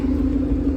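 A tuned V8 in a 2012 Ford Mustang GT California Special coupe with custom exhaust and a 6-speed manual rumbles in a brief, steady, close, deep idle-like drone.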